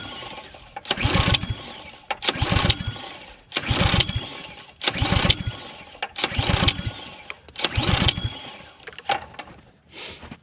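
A Powersmart 250cc snowblower engine is pull-started repeatedly without firing: six loud, rhythmic rope-pull bursts of cranking roughly every second and a half, close by, each ending abruptly with no engine catching.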